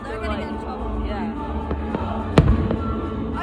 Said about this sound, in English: These are the only fireworks in this whole area though.